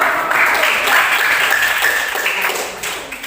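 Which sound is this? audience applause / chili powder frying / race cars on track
audience applause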